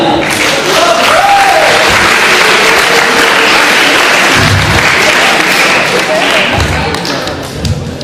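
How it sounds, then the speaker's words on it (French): Audience applause at a magic show, loud dense clapping filling the room for several seconds with a few thumps mixed in, gradually thinning toward the end. "On peut l'applaudir"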